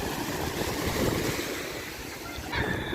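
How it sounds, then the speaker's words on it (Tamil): Surf at Les Sables-d'Olonne beach in France, a continuous broad wash of breaking waves with gusty wind buffeting the microphone, steady and fairly close, with no one talking. "செம்ம பெரிய பீச்சாக இருக்குது."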